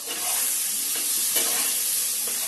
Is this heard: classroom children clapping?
no